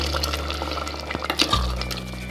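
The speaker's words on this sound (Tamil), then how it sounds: "நம்ம இதில் வந்து தேங்காய் பால் ஊற்றிடுவோம்." Coconut milk poured into a pot of drumstick and ridge gourd curry, a close, soft liquid splash and gurgle with a low rumble over a couple of seconds.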